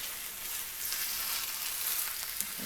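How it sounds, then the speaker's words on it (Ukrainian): Liver frying in a pan with softened onion and carrot, stirred as it cooks: a steady, close hiss of sizzling fat with faint scraping, continuous and without voices. "Додаю сюди печінку, перемішую під кришку"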